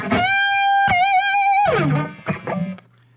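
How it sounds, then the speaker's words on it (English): Electric guitar playing a single string bend with no delay, a bright distorted sustained note that rises in pitch and wavers, repeated twice and then gliding down before fading out. "So here's a single bend without delay."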